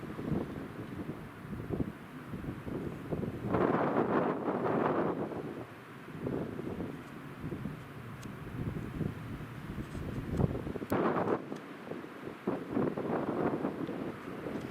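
Wind gusts blow outdoors near a dead pine on a high spot, buffeting the microphone with steady rumbling noise and stronger surges now and then.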